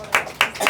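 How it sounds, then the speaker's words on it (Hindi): Three sharp, separate hand claps land in a quick loose rhythm inside a classroom during a maths lesson, close and fairly loud with no voice. "हाथ ताली दो, ताली मारो यार।"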